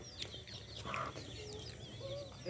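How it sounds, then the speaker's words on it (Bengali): Chickens of a local desi or Sonali breed clucking nearby at an outdoor family picnic at winter's end, with short, overlapping clucks and chirps over a steady background hum and no talking. "এগুলো দেশি মুরগি না সোনালী মুরগি?"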